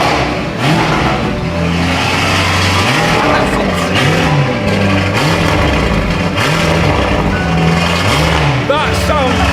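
Rebuilt Lamborghini Urus engine running loud and close, with repeated rises and falls of revving, while people talk over it.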